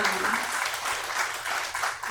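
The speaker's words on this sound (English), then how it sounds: "they deserve a round of applause" A church congregation gives a round of applause, a moderate wash of clapping that holds steady for about two seconds with murmured voices beneath it.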